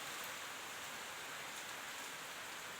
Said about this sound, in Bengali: কিশোরগঞ্জ সদরে বিভিন্ন স্থানে সকাল থেকে বৃষ্টি